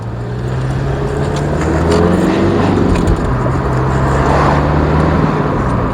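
A diesel Rover 25 drives along, its engine a steady loud drone heard from inside the cabin with road rumble, holding fairly even throughout without speech.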